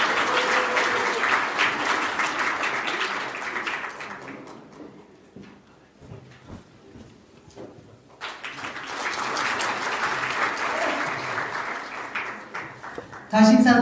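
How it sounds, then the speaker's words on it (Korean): Loud audience applause at a Democratic Party regional committee gathering, dying down midway to a near-quiet pause, then swelling again into a second round of clapping before a voice cuts in at the end. "큰 박수로 맞이해 주시기 바랍니다."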